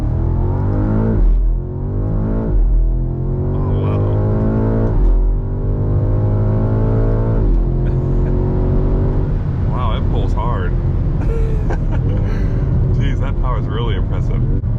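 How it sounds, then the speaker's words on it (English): BMW M5 Touring heard from the cabin under hard acceleration, a loud engine note rising in pitch through successive gears with brief dips at each shift. "All right guys, we are in the M5."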